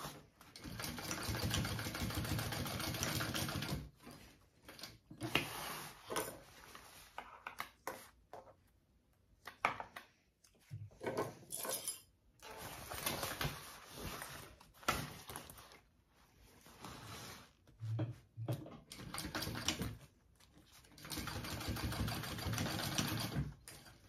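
A sewing machine stitches a backpack's lining in repeated bursts of fast, steady whirring, broken by pauses and handling noise, heard up close with no talk over it.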